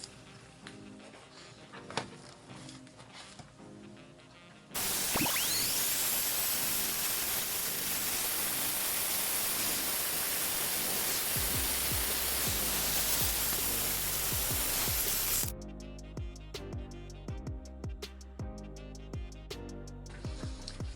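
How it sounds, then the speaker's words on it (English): A Dremel rotary tool sands the sharp edges of Halloween resin coasters, a loud steady whirring grind lasting about ten seconds, with a quieter stretch before and after. "I always sand the edges because resin can be really sharp if it cuts you. So let me grab my Dremel."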